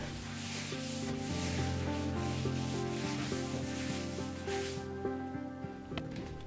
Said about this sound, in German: dazu nehme ich erstmal alles runter und putze da einmal mit meinem Glasreiniger drüber